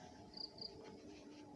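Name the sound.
crickets chirping at dusk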